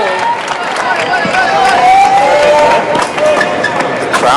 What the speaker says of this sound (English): The crowd here is really trying to push their local heroes forward.